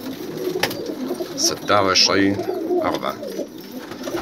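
Male pigeons in Syria coo in a few low, throaty bursts near the microphone while someone talks over them.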